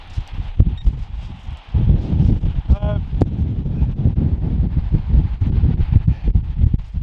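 Blustery wind buffeting the microphone on Chesil Beach, a steady rumbling roar with gusty swells throughout, a brief metallic clang in the middle and faint rustling.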